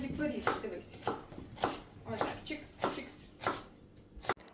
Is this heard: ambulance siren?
no